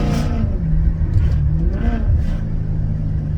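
A Maserati GranTurismo S with a Larini exhaust is revved up in a few short, loud bursts close by, with a raspy, tinny edge to each rise and fall.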